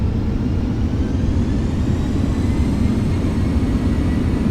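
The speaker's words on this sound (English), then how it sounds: "touch down, slowly put your nose wheel down, pull on the brake" A simulated A319 airliner touching down and braking in the Aerofly game, a steady, loud, low engine and rolling roar that holds evenly throughout with no voices.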